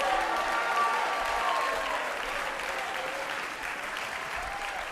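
A church congregation fills the room with steady, sustained applause and mixed shouts of praise, dense and fairly loud throughout.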